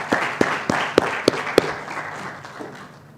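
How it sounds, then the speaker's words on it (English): Scattered audience applause at a cybersecurity conference in Africa, with a few sharp, loud close claps standing out in a slow rhythm before it tapers off. "please give a applaud to ourselves"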